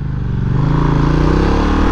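A dual-sport motorcycle rides on, its mid-pitched engine droning steadily and loud up close, with a faint clatter from the bike.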